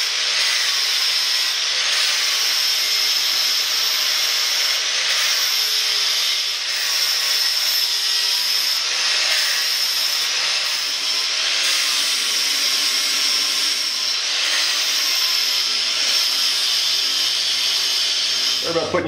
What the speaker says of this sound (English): I need to remove this rust and scale